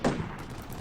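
Gunfire in the video game Combat Mission Shock Force 2 during an insurgent anti-tank missile ambush: one sharp, loud burst that quickly fades into a low rumbling tail, with no talking.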